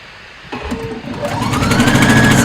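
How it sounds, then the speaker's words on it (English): A sewing machine stay-stitches fabric for a ruffle-sleeve top, starting after a brief pause and running steadily with a rising whirring hum and fast rhythmic needle clatter, close and loud. "And I like to stay stitch from the ends out,"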